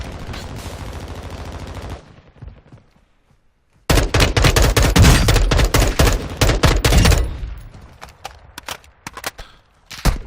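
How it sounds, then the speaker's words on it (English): Burst gunfire from a firearm in the video game Warzone 2.0: a sustained rattle of shots, then a short lull and a loud, dense fusillade of rapid bursts that thins into scattered single shots near the end. "Burst firing there with him."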